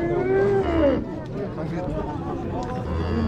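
Young bulls at a livestock market in Merke, Zhambyl region, let out a loud nearby moo at the start. Crowd chatter and voices continue underneath throughout.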